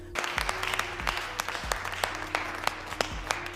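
Hands clap together during a jail scene in a film, with sharp separate claps over a low musical hum, coming in a loose, uneven rhythm at moderate loudness.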